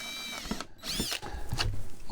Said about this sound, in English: Don't drill through the whole bucket, just the lip itself.